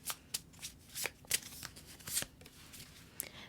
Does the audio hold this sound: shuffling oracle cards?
yes